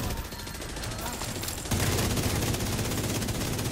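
Gunfire in the shooter game The Division during a Legendary District Union mission, a dense, sustained rattle of rapid shots that jumps louder partway through and keeps going without a break.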